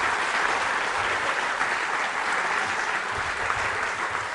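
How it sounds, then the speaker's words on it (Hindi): A school quiz show audience claps in a dense, even wash of applause that holds steady and loud from start to finish, with no pauses or distinct single claps. "तालियां एक बार और बजा दीजिए"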